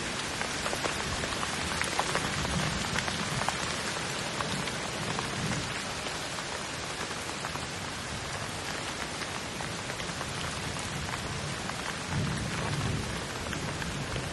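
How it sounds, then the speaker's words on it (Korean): Heavy storm rain pours steadily on surfaces while thunder rumbles low underneath, a dense, continuous wash of sound with no voices. "간질은 어부 아저씨에게 살려달라고 소리쳤지만 폭풍이 너무 무서워 어부 아저씨도 도와줄 수 없었어요"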